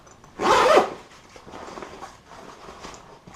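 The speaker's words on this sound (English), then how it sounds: "and it has a zipper." A zipper on an army duffel bag is pulled once in a short, loud rasping burst, followed by quiet rustling handling.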